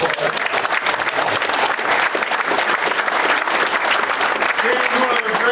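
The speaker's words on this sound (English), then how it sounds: "huge round of applause." A big crowd at a Michigan football event claps loudly for a former player, a dense, sustained roar of applause that holds at full strength for the whole stretch, with crowd noise mixed in.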